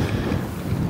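Strong wind buffets the microphone at an outdoor county show, a low, gusty rumble that rises and falls throughout the brief moment.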